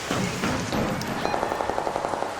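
Rapid, evenly spaced gunshots from the video game ARC Raiders crackle in a short burst at middle distance, following a stretch of muffled in-game ambience.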